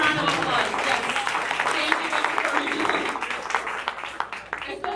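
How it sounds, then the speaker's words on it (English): An audience applauds at a hospital ribbon-cutting for a rehabilitation hospital's tenth anniversary, a dense burst of clapping from a gathered crowd, with voices talking and cheering mixed in throughout. "let's give them another round of applause for letting us be inside"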